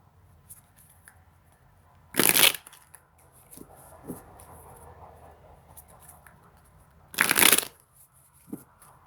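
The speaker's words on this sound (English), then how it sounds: "So I'm going to go ahead and shuffle this back in." Tarot cards are riffled in two sharp, loud shuffling bursts several seconds apart, with softer card handling and tapping between them in a quiet room.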